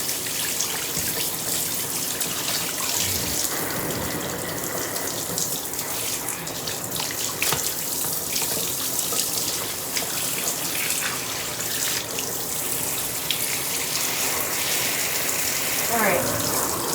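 Water runs steadily from a tap or sprayer as a dog is rinsed during a bath at a grooming session, a continuous close hiss and splash with brief speech over it.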